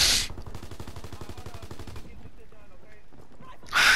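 Rapid gunfire in the Call of Duty WWII video game, a dense run of close, repeated shots for about two seconds, followed by quieter game sounds and a loud burst at the end.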